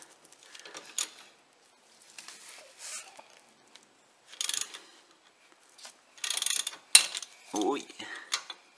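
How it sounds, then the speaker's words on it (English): Metallic clicks and ratcheting as a spanner works the bolts of a front brake caliper on a Land Rover Discovery 3 or 4. The bursts are short and intermittent, close by in a quiet garage, with clinks of tools in between. "Got to get the spanner on it."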